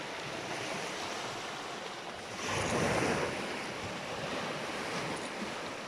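Sea waves wash continuously onto a beach shore, with one fuller surge swelling midway, blended with soft wind rumble and no voices.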